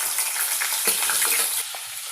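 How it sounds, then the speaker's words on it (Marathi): Crab pieces hit hot oil in a pan for a crab curry and fry with a loud, steady, close crackling sizzle, dipping slightly toward the end. "आपण टाकून घेऊया तेलात, हळूवार सोडून घ्यायचे।"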